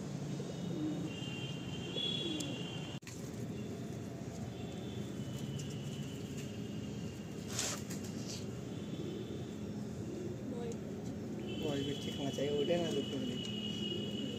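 Low, soft cooing of pigeons close by in a pigeon loft, repeated against a quiet background hum with occasional chirps and faint distant sounds.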